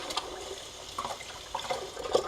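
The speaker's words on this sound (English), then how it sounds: "we're going to actually rinse it in the water here" Sprouts are rinsed in a container of water, with gentle sloshing and a few small splashes, close up and fairly quiet, no talking.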